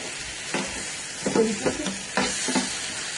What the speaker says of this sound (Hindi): अब इसको आप सिर्फ 2 मिनट तक बस भूनें